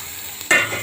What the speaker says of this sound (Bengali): চালটা পেঁয়াজটা ভেজে দিতেছি